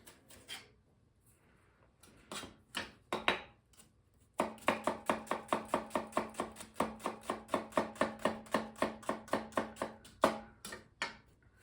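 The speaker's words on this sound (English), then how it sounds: "I'm going to chop some onions." A knife chops onions on a board, beginning with a few scattered cuts. It then settles into a rapid, steady run of sharp close-up thwacks and ends with slower final strokes, with no voices.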